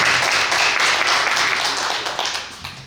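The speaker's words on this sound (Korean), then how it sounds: "큰 박수로 한 번 더 맞이해 주십시오" Audience at a Korean church gathering, a book-launch thanksgiving service and literary award ceremony, applauds steadily with dense clapping for about three seconds, tapering slightly near the end.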